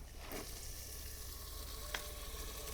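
Cauliflower florets fry in a pan for pulao, giving a soft, steady sizzle with faint stirring clinks, quiet and close with no talking.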